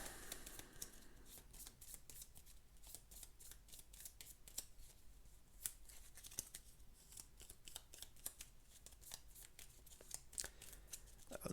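Playing cards for the Aeon's End board game are shuffled by hand in a long run of quick, crisp riffling clicks, faint and close with no talking.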